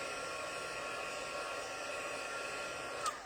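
A heat tool runs steadily to dry white ink stamped on a handmade birthday card, giving a constant, even blowing hiss close by that holds throughout with no speech.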